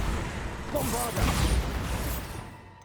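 A Bombarda spell explodes in Hogwarts Legacy, a broad crackling blast swelling through the middle of the clip, then thinning out into a fading rumble.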